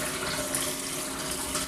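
Rinse water poured and dumped out of a glass jug after sterilizing it for home brewing, a steady close splashing gush that runs continuously without talk.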